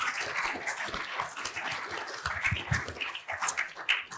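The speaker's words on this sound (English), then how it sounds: "Please kindly join me in giving them a round of applause" Conference audience applause, a continuous, fairly dense clapping texture at moderate loudness with uneven bursts throughout and no speech over it.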